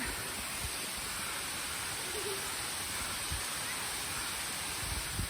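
Steady broadband rush of a tall waterfall, roughly 50 to 100 feet high, in Pisgah National Forest near Asheville, heard as a continuous even roar with no breaks or talk.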